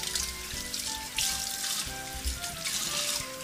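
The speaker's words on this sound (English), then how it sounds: "We're just going to wash them with our hands." Potatoes are washed by hand under running tap water in a sink, a soft, steady splashing stream with brief louder surges as hands move the potatoes, close and alone without talk.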